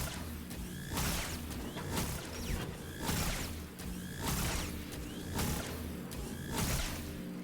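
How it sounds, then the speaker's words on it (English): Fusion rifle in the game Destiny 2, fired repeatedly as an eight-shot magazine is emptied and reloaded: a series of loud, regular charged bursts with whooshing, mechanical clicks and ratcheting between shots. "Standing in a rift, we empty our magazine of 8 and reload"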